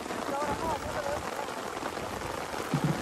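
Rain falls over a wetland lake, heard from a boat out on the water as a soft, steady wash of patter, with faint voices briefly audible under it.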